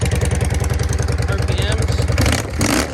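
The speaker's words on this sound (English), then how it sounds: "so I got it idling right now" A Yamaha V Star 650 motorcycle fitted with pod air filters idles with a steady, rapid, lumpy putter up close, and a voice speaks over it.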